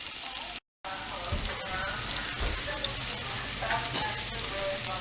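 Onions frying in a pan over medium-high heat give a steady, close sizzle that cuts out briefly near the start and then runs on with faint stirring clicks.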